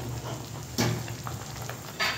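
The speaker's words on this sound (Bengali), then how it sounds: "ডালের বড়াটা দিয়ে দেবো প্রথমে।" Lentil fritters dropped into hot oil for a Bengali eggplant fritter dish, a continuous crackling sizzle with two brief louder bursts of spitting as pieces hit the pan, close up and with no voices.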